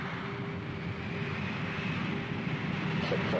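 An Avro Vulcan B-2 bomber makes a steady, moderately loud jet engine roar that stays constant throughout, with faint voices beneath.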